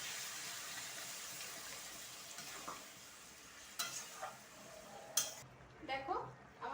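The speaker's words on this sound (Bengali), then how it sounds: "দেখো আমার গ্রেভিটা এরকম ফুটে গেছে" Gravy bubbles and sizzles in a pan just after water has been added, a soft steady hiss with small pops and a few light clinks of a utensil near the end, fairly faint; no talking.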